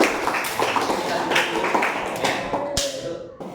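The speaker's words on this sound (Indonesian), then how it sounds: "Oke, beri tepuk tangan untuk kelompok kedua." Students in a classroom clap for the second group after it finishes its worksheet, a quick run of scattered hand claps and taps heard close by while a teacher's voice carries over them.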